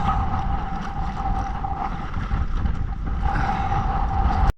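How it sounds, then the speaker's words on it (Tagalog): Strong sea wind blows over a small fishing boat, a loud constant rush buffeting the microphone, with a faint engine-like hum underneath and no voices. "Grabe yung hangin."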